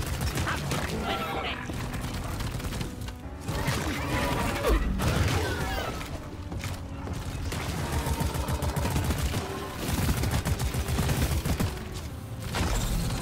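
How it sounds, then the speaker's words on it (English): Rapid gunfire rattles at a player inside the Deep Rock Galactic video game, with dense bursts and clattering mechanical noise running nearly unbroken across the stretch and a voice speaking over the shooting. "Why are you shooting me?"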